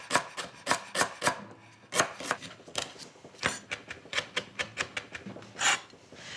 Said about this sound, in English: So I need to finely slice the lemongrass